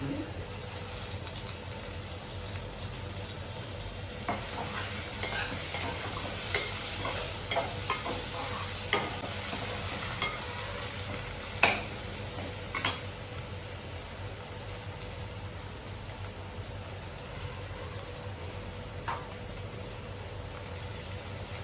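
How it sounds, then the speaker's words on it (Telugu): Curry leaves frying in hot oil in a pan for a Telugu fish curry, a continuous close sizzle with spoon stirring and several sharp clinks of utensil against the pan, no talk. "కాస్త కరివేపాకు కూడా వేస్తున్నాను."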